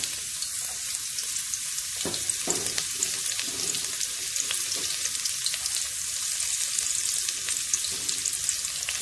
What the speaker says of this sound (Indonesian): Kita tumis bawang putih, ikan bilis,